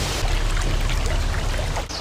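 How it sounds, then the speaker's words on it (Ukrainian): Water pours steadily over an artificial waterfall built for the former Buky mini hydroelectric station on the Hirskyi Tikych river near a canyon, a dense continuous rushing roar close by with no voices. "Цей водоспад построєний спеціально для Букської ГЕС, яка працювала тут раніше, а потім була закрита."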